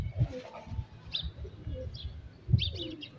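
Soft pigeon coos sound a few times against a quiet background, with brief higher chirps scattered in between.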